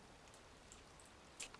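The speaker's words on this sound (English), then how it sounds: "It's raining." Rain falls in the video game Heavy Rain as a faint, steady patter of drops, with a slightly stronger splash near the end.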